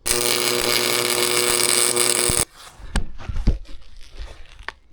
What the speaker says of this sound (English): I love pulse welding because you can go so fast and you basically just go in a straight line if you have a tight fit